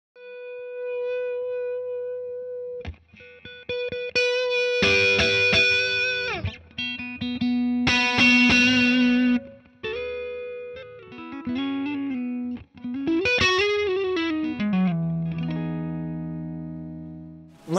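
Electric guitar played through a Tampco Tone Oven transparent overdrive pedal: sustained single notes, then loud driven chords and melodic phrases with bends, ringing alone without talk.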